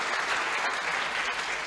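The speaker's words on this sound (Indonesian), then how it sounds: "Tepuk tangan teman-teman semua" Audience in a university lecture hall breaks into dense, continuous applause, a full even roar of many hands clapping throughout the brief moment.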